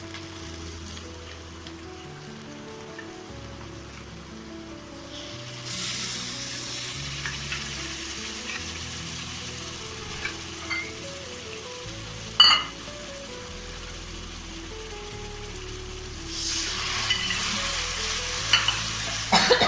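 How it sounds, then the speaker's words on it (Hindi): Masala spices frying in a pan over a continuous sizzle, stirred with soft scraping and an occasional clink, while the frying grows louder partway through and stays close throughout. "तो चलिए मसाला डाल देते हैं।"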